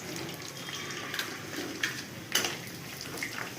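Onion drops into hot oil in a pan for mutton keema curry and fries with a constant close sizzle, broken by a few sharper crackles and spatters, with no talking.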